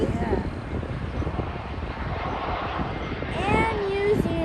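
A Jetstar airplane at Auckland Airport rumbles steadily at a distance, a broad engine roar with wind buffeting the microphone and people talking faintly nearby.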